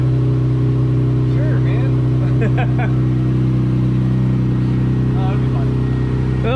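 An Infiniti G35 with a VR30DDTT twin-turbo V6 swap idles strapped to a chassis dyno, a loud steady low engine drone running throughout while people talk nearby.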